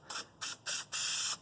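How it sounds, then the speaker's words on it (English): Adhesive sprayed from an aerosol can onto a car door of a 1982 Mercedes 300TD: three short hissing bursts followed by one longer spray, close and clear with no talk. "and I spray everywhere they brushed."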